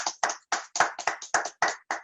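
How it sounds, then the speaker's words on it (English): Hand clapping in a steady, even rhythm, about nine crisp claps close by, with no voices. "Let's give all our children a round of applause."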